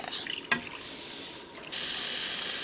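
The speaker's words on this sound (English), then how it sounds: "Now we're going to add our water" Water poured into a hot pan of browning onions, a sharp splash followed by a steady bright hissing sizzle that continues loudly to the end.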